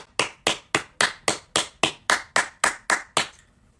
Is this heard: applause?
yes